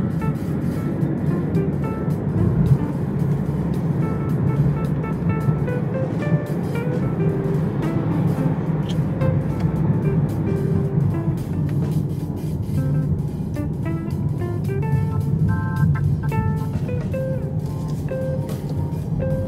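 Steady road rumble of a car driving along the approach road toward the old Rosenblatt Stadium parking lot, a continuous low engine and tire drone with faint rattles throughout, no talk.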